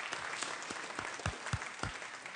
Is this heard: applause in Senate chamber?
yes